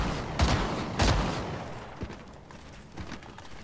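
Gunshots in the game Fortnite crack out in a few sharp bursts, two heavy shots close together followed by lighter, more distant pops trailing off.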